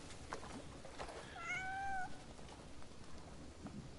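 A single drawn-out meow from a cat in the video game Crimson Desert, clear and fairly close, rising then settling over about half a second, set against soft game ambience with no talking.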